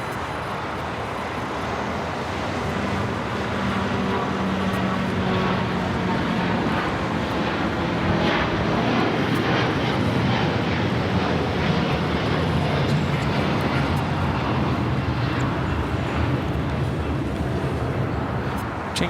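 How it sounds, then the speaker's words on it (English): All Nippon Airways Boeing 787-9 Dreamliner taking off from LAX, a broad steady jet engine roar that fills the scene continuously, distant and sustained with faint surrounding airport ambience. "This is All Nippon Airways Flight 5 taking off to Tokyo Narita on a 787-9 Dreamliner."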